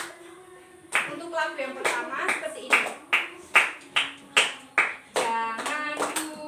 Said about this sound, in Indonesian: Sekarang kalian sambil tepuk tangan dulu sambil Ibu bernyanyi ya.